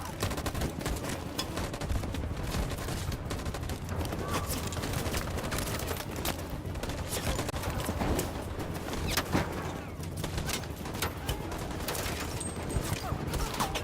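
Sustained, dense gunfire fills a Detroit: Become Human battle scene, with rapid overlapping shots and a constant roar of combat that never lets up.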